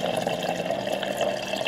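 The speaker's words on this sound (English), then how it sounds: "Then I'll just fill this in with water, like, all the way" Water running steadily from a tap into a shaker bottle, a continuous close gurgling fill with no talk.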